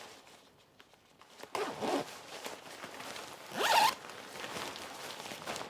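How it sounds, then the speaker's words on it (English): A YKK zipper on a motorcycle rain jacket being zipped up in two quick rasping strokes, a short one followed by a longer, louder pull, close and quiet otherwise. "it's a YKK zipper, super solid, super sturdy, and the coat zips up"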